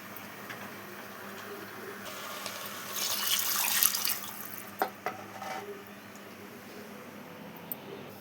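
Water poured into a cooker while mixing dough for a pullao and roti meal, a faint steady trickle swelling into a brief louder rush midway, followed by a few small clinks in a quiet kitchen.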